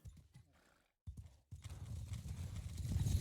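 Cavalry horses in the Mount & Blade 2: Bannerlord game move off with hoofbeats and a brief neigh, starting sparse, pausing, then building into a dense, rising gallop of many hooves.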